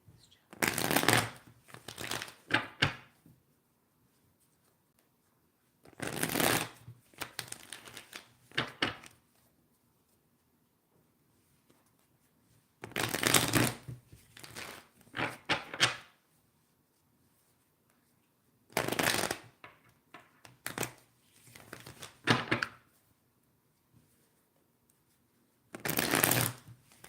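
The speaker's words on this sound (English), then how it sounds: "Shuffle until I'm told to stop" Tarot cards are shuffled by hand in five separate bursts of dense, crisp riffling, each lasting a few seconds and divided by near-silent pauses, close up with no talking.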